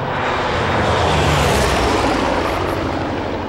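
A Corsair fighter plane's piston engine and propeller roar close by in a loud, steady drone that fills the whole moment without letup.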